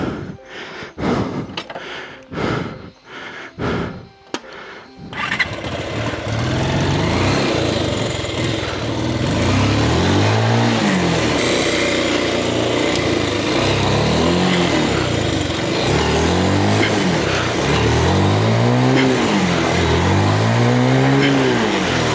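A stuck motorcycle's engine is revved repeatedly in loud, close swells that rise and fall in a steady rhythm, after a few seconds of sharp knocks and scuffing.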